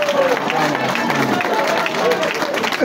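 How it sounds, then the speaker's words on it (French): Audience applause at a Congolese culture ministry ceremony honouring actors, a dense steady wash of clapping and crowd murmur sustained across the whole stretch, with voices mixed in underneath. "Applaudissez pour moi."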